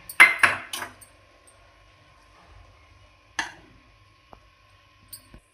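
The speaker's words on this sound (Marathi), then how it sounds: "बारीक चिरलेली कोथिंबीर टाकून घेऊया आणि हे हलवून घेऊया" Dalcha curry being stirred after adding chopped coriander: a few quick metallic spoon scrapes and clanks against the pot at the start, then quiet with isolated light clinks and taps.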